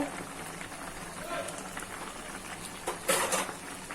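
Hilsa fish is added to Malabar spinach cooking in a pan: a soft steady sizzle, then a brief louder splash and hiss as the pieces go in, with a voice speaking faintly underneath.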